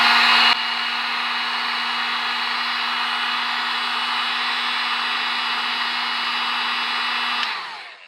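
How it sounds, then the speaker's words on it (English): A heat gun blows steadily and loudly up close for several seconds, a constant airy whoosh with a faint hum, while warming cosplay mask material for shaping, then cuts off at the end. "I'm going to heat a small area at a time and just do some detail shaping and detail work"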